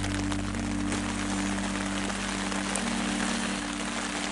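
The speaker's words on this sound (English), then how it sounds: "The rain is nice, but it's really coming down. It's pretty loud." Heavy rain pounds steadily on a tent at Antelope Island during a downpour, a dense, loud, continuous patter close overhead with no voices.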